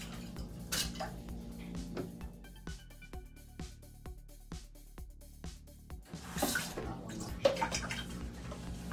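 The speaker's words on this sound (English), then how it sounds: "I do the dishes." Dishes being washed: plates, pots and cutlery clink and clatter in repeated sharp knocks, with a brief rush of running water from a tap near the end, close and alone with no voices.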